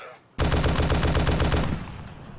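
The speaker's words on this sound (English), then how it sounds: "I shoot some of them just for the fun of it." Automatic gunfire in the video game DayZ Epoch: a loud, rapid burst of closely spaced shots lasting over a second, then trailing off into a softer echoing tail.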